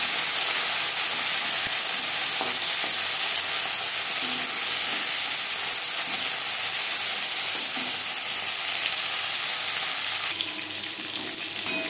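A fish head fries in hot oil, giving a loud, continuous, dense sizzle that hisses steadily throughout with no talking over it.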